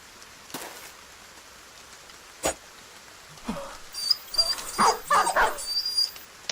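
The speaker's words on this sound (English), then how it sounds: "There goes the dog." A dog barks in a video game match during rain, with short sharp bursts near the end over a steady wet hiss and scattered transient hits.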